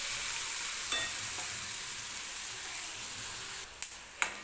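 Onion frying in oil for a Maharashtrian matki dal kanda, a steady close sizzle with a few clicks of stirring near the end.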